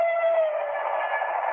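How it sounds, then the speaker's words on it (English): A train horn sounds in one sustained, steady blast of layered tones, moderately loud and heard from a distance, with no talking over it. "A train signal there."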